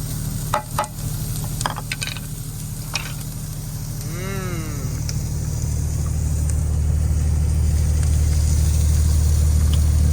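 A truck engine roars loudly while running an exhaust regen, a steady heavy drone close by that swells and grows louder over time, with a few clicks and brief rustles early on and no talk.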